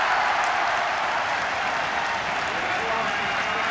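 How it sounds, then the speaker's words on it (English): Finnish football supporters roar and applaud a goal in a stadium during a 1982 international friendly against England in Helsinki, a dense, steady wall of crowd noise heard from a distance without pause. "And the Finnish supporters have something to cheer with 9 minutes remaining"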